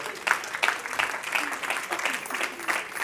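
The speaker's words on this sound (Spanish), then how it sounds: "De un aplauso al Señor esta noche." A church congregation applauds during a Spanish-language sermon, a moderate rolling patter of many hands rising and falling in waves, with a voice faintly mixed in.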